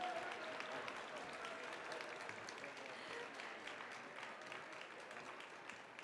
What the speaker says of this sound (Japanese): 大きな拍手でお二人をお迎えください